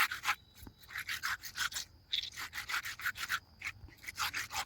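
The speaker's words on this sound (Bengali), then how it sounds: "আবারও আমি মাছগুলোকে ঘাটের উপর দিয়ে ঘষে ঘষে আবারও ভালো করে ধুয়ে নেব" Taki fish are rubbed hard against a stone bathing ghat during washing, making quick repeated rasping scrapes in an uneven rhythm, close and fairly quiet, with short pauses between strokes.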